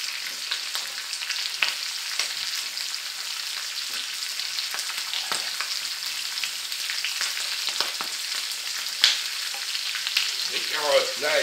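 Onions sizzle hard in a hot pan for a homemade venison sauté, a constant bright crackle with quick stirring clicks and scrapes, close and loud, with no one talking.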